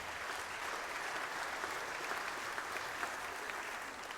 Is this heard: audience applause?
yes